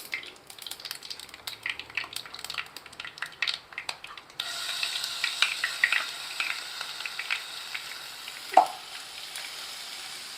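Ground mint paste hitting a hot pan with curry leaves for mint rice: soft scraping and stirring at first, then a loud, steady sizzle takes over, with one sharp clink near the end.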